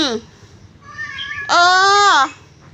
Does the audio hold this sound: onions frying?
no